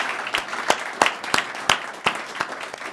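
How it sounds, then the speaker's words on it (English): Scattered hand claps at a company annual general meeting, a small group giving the management team a sparse round of applause with distinct, irregular claps rather than a dense roar. "We should, you know, give Tom and the management team a round of applause"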